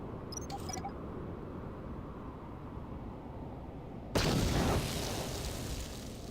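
A frag mine goes off in Star Wars: Knights of the Old Republic with a sudden loud burst. It follows several seconds of low ambient game hum and leaves a dense, sustained roar behind it.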